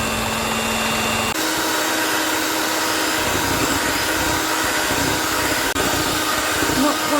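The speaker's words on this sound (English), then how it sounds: "I'm going to pour the cream into my mixing bowl and start to whisk it up" An electric mixer whisks cream in a mixing bowl for homemade ice cream, a steady, loud, close motor whir running unbroken throughout.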